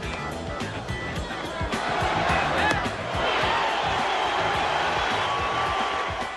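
At Fenway Park, the crowd cheers and applauds Roger Clemens with a broad, sustained roar that swells midway and holds steady, while a voice talks faintly beneath it.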